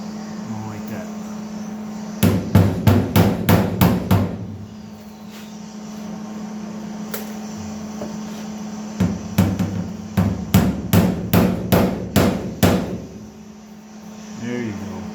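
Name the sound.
hammering rust patch panel on 1983 square body truck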